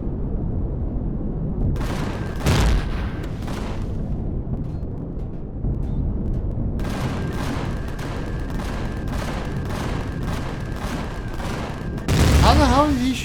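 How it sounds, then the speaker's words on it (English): An enemy's laser gunfire in a sci-fi video game, dense bursts of crackling, booming shots that roll on continuously, loud and close, with a sharper volley near the end and some talking underneath. "How the hell is he shooting lasers?"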